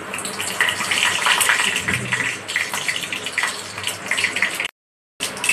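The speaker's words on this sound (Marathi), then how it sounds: "आपण यातली टाकली आणि थोडंसं पाणी टाकायचं, थोडंसं पाणी।" Water poured into a hot tempering of mustard seeds and curry leaves in oil for medu vada chutney makes a loud, close, rushing hiss and splash that runs on steadily, drops out briefly near the end, then returns.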